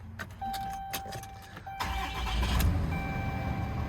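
A 2011 Ram 3500 Mega Cab Laramie 4x4 with a 6.7L Cummins diesel starts up: keys jangle and a chime sounds, then the starter cranks and the engine catches into a close, rumbling idle with no talk.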